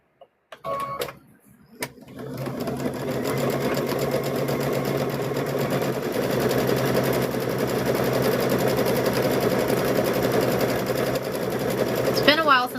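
A sewing machine stitches the fabric of a handmade stuffed bear, running in a steady continuous whir for about ten seconds after a few brief clicks and handling noises at the start.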